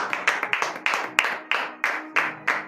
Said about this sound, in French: donnez encore de vives acclamations à notre Seigneur Jésus